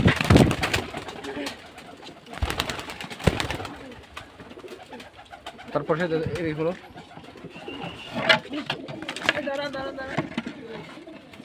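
Giribaz pigeons coo at a pigeon farm in Bangladesh, soft repeated calls close by mixed with other birds, with someone talking over them throughout.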